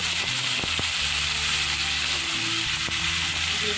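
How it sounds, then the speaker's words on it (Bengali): Cauliflower fries in hot oil in a pan, giving a continuous close sizzling hiss with small crackles and no pauses. "ভালো করে আমি ভেজে নিলাম। হালকা করে আমি ভেজে নেব।"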